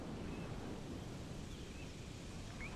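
Wind blowing across an open golf course, a steady low broadband rush of gusts buffeting the microphone, faint and continuous with no voices.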